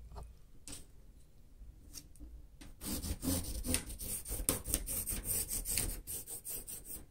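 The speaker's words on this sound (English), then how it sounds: "And I use this big cardboard from the Dollar Tree. So you just trim it out." Big Dollar Tree cardboard is trimmed out, soft scraping and rubbing at first, then a denser run of rasping cutting strokes in the second half, close and fairly quiet, with no talking.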